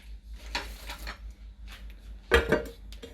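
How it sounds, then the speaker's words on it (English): Metal lid set onto a pot of rice cooking with salt and butter, a few soft clinks and one sharper clatter of metal on metal, quiet and close. "then we put our lid on it"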